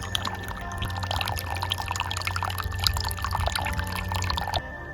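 Garden water fountain in a small container garden, bubbling and splashing steadily in the sun, a continuous close trickle that runs unbroken until it stops near the end.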